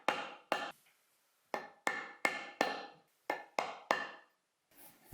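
Sharp hammer blows drive a chisel into scrap wood, about nine crisp knocks in irregular clusters with brief pauses between, close and percussive with short ringing decays.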